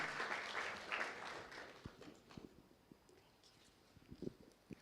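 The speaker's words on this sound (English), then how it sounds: "So let's please put our hands together and appreciate when he comes." Applause welcomes a speaker at a tech hub launch, starting as lively clapping that thins out into a few scattered, separate claps near the end.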